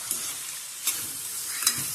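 Chopped jackfruit vegetable frying in a pan for a Malvani-style bhaji, a steady close sizzle broken by three brief scraping stirs of the spatula.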